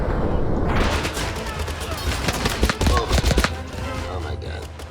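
Loud, continuous WW2-style city battle gunfire in Totally Accurate Battle Simulator, with overlapping shots and booming blasts throughout and a voice talking now and then.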